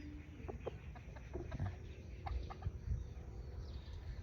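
Thai/Lao game fowl cluck in a string of short, scattered calls at moderate distance, set against a steady low outdoor rumble with no talk.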